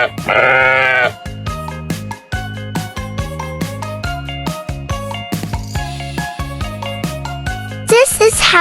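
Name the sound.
sheep bleating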